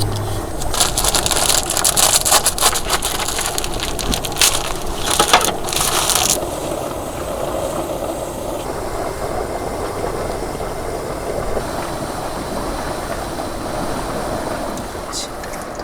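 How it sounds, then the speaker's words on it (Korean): Wind blows outside a Kia Carnival set up for car camping at Waemok village, a loud continuous rushing roar with gusty bursts early on, close and steady throughout with no talk. "밖에 바람 부는 거 봐"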